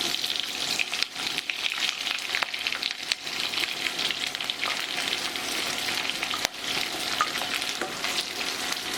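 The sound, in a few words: onions frying in oil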